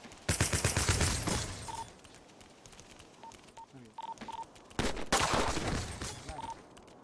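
Rapid bursts of video game gunfire crackle in two long volleys separated by a quieter stretch, with short electronic beeps scattered between them and no talking.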